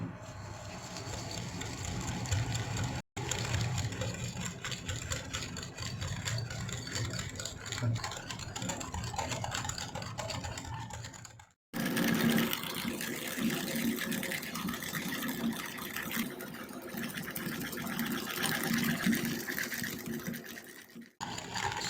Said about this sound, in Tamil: நம்ம பீட்டரை வச்சு நல்லா பீட் பண்ணிக்கணும்.